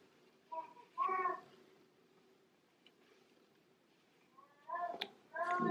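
Faint, high babbling cries and squeals from a baby of about six to nine months, a few short bursts separated by quiet stretches in a room with a TV on.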